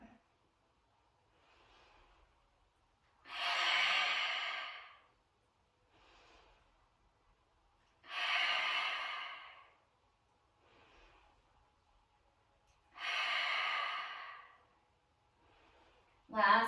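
Slow yoga breathing in a hands-free flow, three long audible breaths spaced about five seconds apart with softer inhales between them, close and alone.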